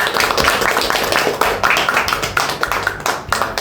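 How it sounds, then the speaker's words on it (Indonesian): A small group claps at the close of a meeting, uneven, fairly close hand claps mixed with room noise. "Beri tepuk tangan untuk kita semua."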